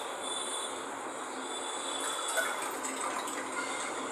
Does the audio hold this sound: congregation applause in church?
no